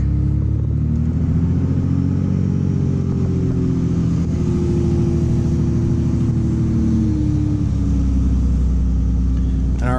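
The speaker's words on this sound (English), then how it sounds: "clutch in, pull back, and release the clutch, and we are in second gear" A manual-transmission car accelerates in second gear after a shift; a steady, close engine drone holds throughout, with no talk over it.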